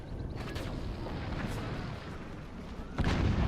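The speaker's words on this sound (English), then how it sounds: "Secondary explosions." Explosions go off in a competitive video game match, a rumbling barrage of booms that swells into a heavier blast near the end, dense and loud with no speech over it.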